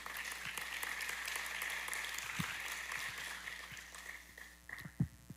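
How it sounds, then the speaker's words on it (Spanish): A crowd applauds steadily, a dense wash of clapping that gradually fades out toward the end. "Démosle un aplauso al Señor."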